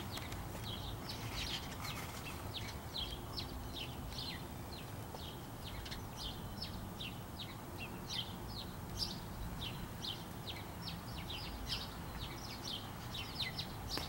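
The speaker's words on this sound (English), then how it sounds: "I filmed the little birds." Little birds chirp continuously as rapid, high twittering calls repeating throughout, fairly faint over a steady outdoor background rumble, with no talking.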